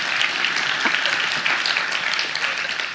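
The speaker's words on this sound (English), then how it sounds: "Right, so we've got applause." Crowd applause played back as a sound effect from a computer program, a steady dense wash of clapping that runs the full three seconds at even loudness, with no voices.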